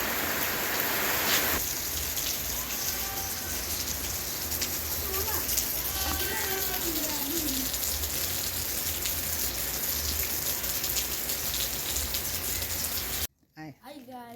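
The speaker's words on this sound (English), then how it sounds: "Yes, it's raining guys, you can see." Steady rain falls on a village kitchen garden in Kenya, a dense, even hiss of drops on surfaces running throughout. A few faint birds chirp in the background, and the sound cuts off abruptly near the end.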